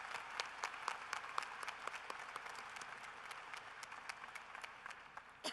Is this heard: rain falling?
no